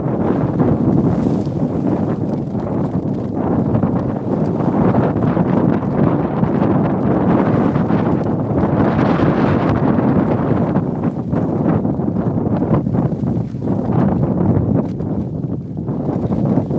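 Strong wind roars and buffets continuously across a seaside promenade, a loud, steady rush with microphone gusting throughout.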